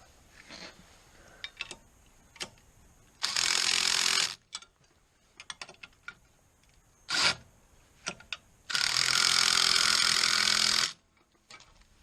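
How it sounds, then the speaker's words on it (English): A mini impact driver tightens 3/4 bolts on a Walker mower tail weight kit, firing in two sustained bursts of rapid hammering a few seconds apart, close and loud, with sparse clicks and handling noises between. "that little mini impact isn't meant for impacting bolts"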